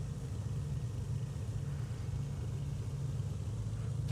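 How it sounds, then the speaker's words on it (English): A Beechcraft Baron twin-engine aircraft idles its engines during a run-up check, producing a steady low close rumble that stays even throughout. "Down to idle, we'll do an idle check now."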